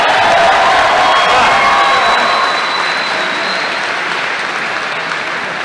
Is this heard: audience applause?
yes